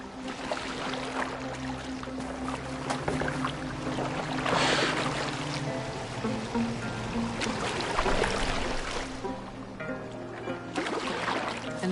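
A wooden boat is rowed across water in Assassin's Creed Valhalla, with steady sloshing and splashing of oars under a continuous low hum, moderately loud and close.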